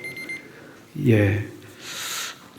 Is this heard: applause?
no